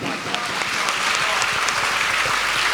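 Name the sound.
congregation clapping in church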